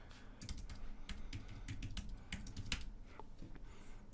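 Computer keyboard on a Mac being typed on for a terminal install command, a dense run of quick, close key clicks with short pauses, quiet and without speech.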